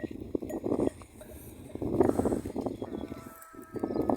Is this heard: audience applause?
no